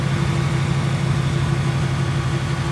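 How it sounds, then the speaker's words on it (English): A 2018 Ford Mustang engine idles steadily at close range, a low, even rumble with a constant hum that never rises or falls. "let's hear my engine"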